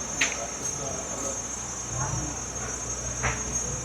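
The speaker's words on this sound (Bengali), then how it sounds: "মানে ঝিঝি পোকার ডাকটা" Crickets chirp steadily in the Kilim Geoforest, Langkawi, a constant high insect drone with occasional louder chirps, while soft sounds of people moving about sit faintly beneath.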